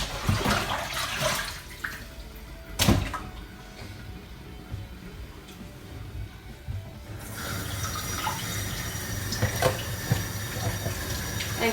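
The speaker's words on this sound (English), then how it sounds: "So it'll fill the sink up as we go." A kitchen sink fills from a running tap, water gushing steadily and close, with a sharp clatter near the start and a brighter, fuller rush in the later part.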